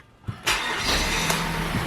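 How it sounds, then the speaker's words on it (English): A Mazda CX-7 engine cranks briefly and fires up, then settles into a steady, loud idle close by with no talking. "I'm going to start the car"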